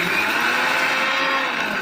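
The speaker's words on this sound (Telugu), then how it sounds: "మనం చక్కగా బిస్కెట్లని మిక్సీ చేసేద్దాము" A kitchen mixie grinds Oreo biscuits and sugar into powder, a loud steady high-pitched motor whir with a rough rattling edge that holds level throughout, no speech over it.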